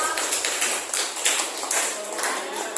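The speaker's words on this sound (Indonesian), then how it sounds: "kita beri aplaus dulu untuk kelompok 5 luar biasa" Applause for group 5 in a classroom, a burst of clapping from several people that rises and falls in uneven waves over a couple of seconds.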